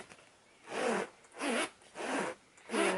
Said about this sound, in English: Nice zipper.